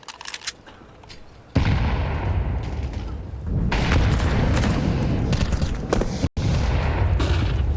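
A grenade explosion in a Counter-Strike match, starting with scattered light clicks and then two heavy booming blasts, each followed by a long rumbling roar, with a brief cut near the end.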